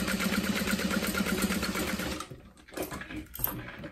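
Sewing machine stitching along the sides of a folded zip-top tote bag, a steady fast rattling hum for about two seconds that then stops, followed by quieter handling noises.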